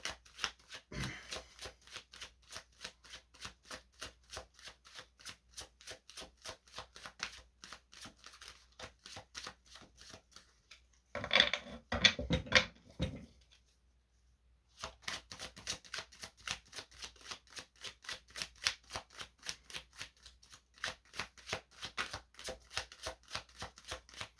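Oracle cards are shuffled by hand in a long run of quick, soft riffling flicks, close and dry. A short denser burst and a brief pause break the run before the even shuffling resumes.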